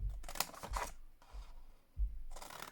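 Scissors snip through folded, scored card for a small gift box, several quiet close cuts in uneven bursts with soft paper rustle and no speech.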